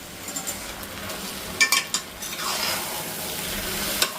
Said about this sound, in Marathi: तर हा तांदूळ ना चांगला 2-3 मिनिट मी भाजून घेतलाय चांगला.